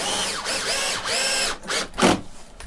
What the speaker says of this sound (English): So we take that second screw and put it right through the hole